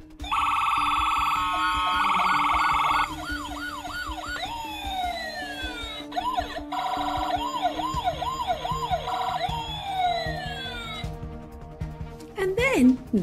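Two police vehicles' sirens blare in shifting patterns, alternating fast warbles, sweeping wails and two-tone bursts, loud and close, with a brief squeal at the end.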